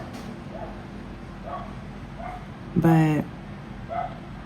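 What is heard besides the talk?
dogs barking in the neighborhood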